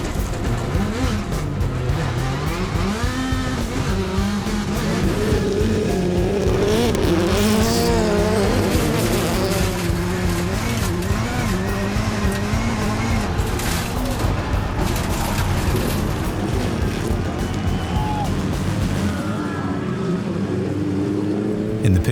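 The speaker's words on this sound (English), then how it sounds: "the Subarus cross the finish line in 2nd and 3rd" Subaru rallycross cars race to the finish line at a Global Rallycross event in Ottawa, Canada. Engines roar loud and close, revving hard and rising and falling through gear changes, with a dense layer of crowd and commentary noise under them.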